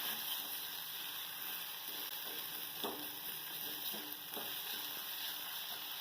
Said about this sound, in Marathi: तेलावर सगळं छान परतून घ्यायचंय